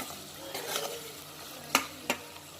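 Four green chilies sautéing in a pan for bread biryani, a soft steady sizzle with a few sharp scraping clicks of a spoon stirring, close and alone with no talk.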